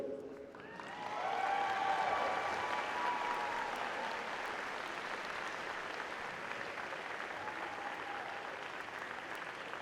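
An audience at a state robotics championship applauds previous winners, a sustained, steady wash of clapping that swells early and holds, with faint crowd murmur and tones underneath.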